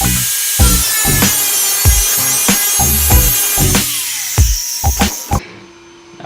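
An angle grinder fitted with a flap sanding disc bevels the edge of a lawn mower blade being made into a machete, a steady loud abrasive whine broken by repeated sharp bursts of contact and a drop-off as the tool stops.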